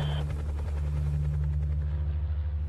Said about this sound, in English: So this is the ACUS helicopter, called the AEH-1.